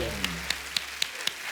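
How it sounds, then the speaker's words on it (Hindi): Five sharp hand claps land in a steady, even rhythm, close and crisp, over a low background rumble. "एंग्री बर्ड के लिए जोरदार ताली हो जाए"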